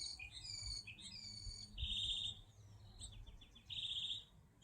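Mockingbirds sing in a garden, a string of varied bright chirps, trills and repeated phrases, moderately close over a low rumble of background noise.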